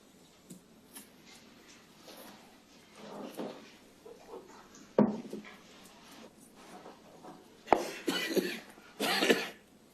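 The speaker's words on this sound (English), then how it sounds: "imagine if somebody had been coughing like that in a courtroom now" Coughing in an Australian Royal Commission courtroom hearing: scattered single coughs and throat clearing, then a few sharp, loud coughing bursts near the end, heard close against a quiet room.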